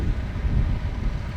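Gusty wind on a farm during harvest buffets the microphone with a low, rumbling rush that swells and dips over a brief moment, with no talking.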